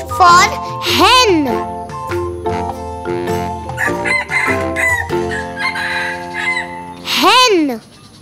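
A rooster crows loudly twice, opening and closing a stretch of bright chimes and a cheerful tune, with a voice nearby.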